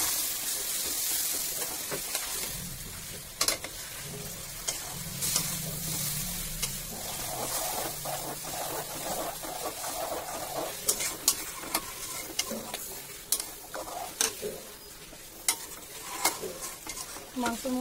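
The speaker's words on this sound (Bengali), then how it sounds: "এই যে মাংস আমি কষাতে দিয়ে দিলাম" Meat sautéing and being stirred in a pan for biryani, a steady hiss of frying under repeated sharp scrapes and taps of a spoon against the pan, close and moderately loud.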